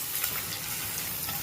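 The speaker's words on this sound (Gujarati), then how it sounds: "લીમડો મરચાં નાખી દીધા છે વઘાર માટે." Curry leaves and chilies tempering in medium-hot oil for a Punjabi-style rajma, giving a steady, close broadband sizzle and crackle that holds evenly throughout with no talking.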